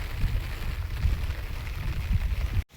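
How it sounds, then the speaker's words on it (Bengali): Steady heavy rain roars on close by, a dense continuous wash of noise with no voices, cutting off abruptly just before the end. "আবার জোরে বৃষ্টি এসছে"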